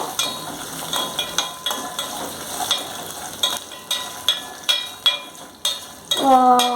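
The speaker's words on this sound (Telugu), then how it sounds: "కట్ చేసి పెట్టుకున్న అల్లం ముక్కలు ఫ్రై చేసేసుకుందాం" Chopped ginger pieces fry in oil in a pan, stirred in quick regular strokes that scrape and clatter about twice a second over a light sizzle, near and loud, ending in a brief ringing tone.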